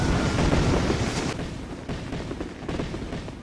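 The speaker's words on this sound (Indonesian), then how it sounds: "granat itu pun langsung meledak." A grenade blast in a battle, heard as a loud rumbling boom with a long roaring decay and scattered crackling bursts.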